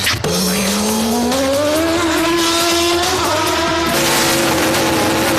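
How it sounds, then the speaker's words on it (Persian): A car with a loud, fully removed exhaust revs hard, the engine note climbing steadily in pitch after a sharp start, then dropping as a gear shifts, loud and close with tire squeal. "صدای اگزوزت خیلی خفن باداره"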